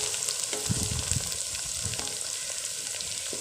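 Ginger and garlic fry in a karahi, a steady close sizzle with soft stirring scrapes and crackles, and no voices over it.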